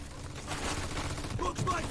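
Machine-gun fire in the video game Mafia 2 sounds as a steady, muffled rattle of bursts under voices speaking in the scene, fairly quiet and held back in the mix.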